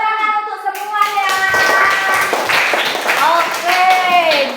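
A class of students claps together in a steady, dense patter, with a voice speaking over the applause throughout.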